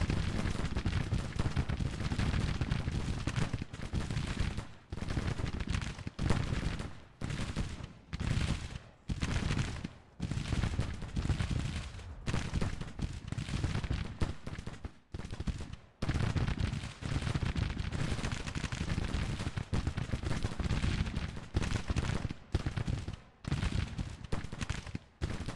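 Musket volleys and artillery fire from a Grand Tactician Civil War battle form a dense, relentless roar of overlapping shots, with brief near-silent gaps between heavy, crackling bursts lasting throughout.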